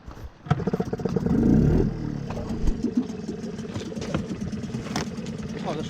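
A sailboat's small engine is started with a little choke, cranking and catching with a brief rev, then settling into a steady, fairly close idle, with a person talking over it.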